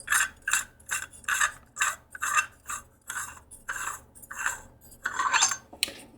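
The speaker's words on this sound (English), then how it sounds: "you just want to unscrew your handle" Lightsaber handle being unscrewed from a Fallen v2 Cal Kestis Neopixel saber fitted with a Proffie board: a series of about ten short, regular metallic rasping twists, close and fairly loud, with no talk.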